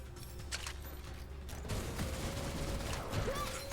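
Enemies firing at the player in the first-person shooter Gunfire Reborn, heard as a continuous spray of game gunfire and mechanical clatter. It sits at moderate loudness and builds after the midpoint, with no one speaking.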